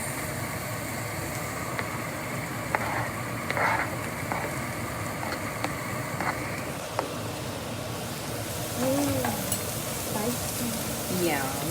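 Spicy chili going into a hot pan for a bean spread, giving a steady close sizzle with stirring scrapes and light clinks throughout; no speech.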